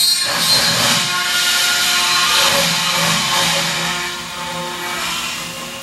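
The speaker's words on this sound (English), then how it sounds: "the rest of the factory is working right along, so the noise is in the background. Just more airplane parts being put together" Steady factory background noise from airplane parts being assembled in an aircraft workshop, a broad hissing, whooshing din with faint hum, continuous and moderately loud throughout, no voices.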